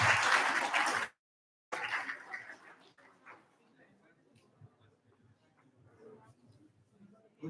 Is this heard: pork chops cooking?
no